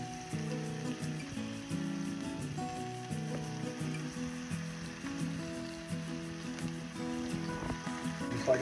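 Teal duck breasts seasoned with salt, pepper and Cavender's sizzle steadily in a hot pan, a constant close crackling fry with no talk.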